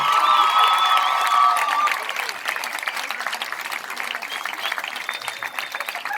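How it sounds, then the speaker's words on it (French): An audience claps steadily at a film premiere of Aladdin at Balexert in Geneva, a dense sustained applause that stays fairly loud throughout, with a few faint cheers mixed in. "Applaudissements pour le réalisateur, s'il vous plaît."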